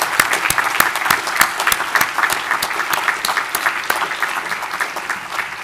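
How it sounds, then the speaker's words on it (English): Sustained audience applause at a spring awards ceremony honoring staff, many hands clapping steadily and evenly at close range with no talking. "Let's give all of them a big round of applause."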